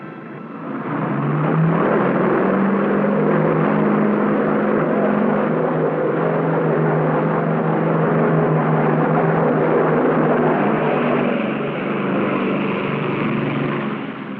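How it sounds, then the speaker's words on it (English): An S-2F Tracker anti-submarine aircraft launches from an aircraft carrier, a loud, steady droning engine roar that swells in and holds with little change for the whole stretch. "An S-2F tracker is launched."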